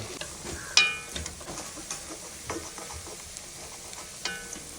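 Masala-coated beef frying in coconut oil in a pan for beef pickle, with a soft steady sizzle and occasional scraping stirs and clinks of a utensil, close and fairly quiet.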